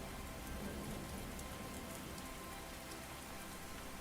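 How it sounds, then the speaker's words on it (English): Soft, steady rain patters on cobblestone streets, a faint, even hiss of countless drops that continues evenly throughout with no voices. "The rain had begun early that morning, a soft, steady patter that turned the cobblestone streets into glistening ribbons"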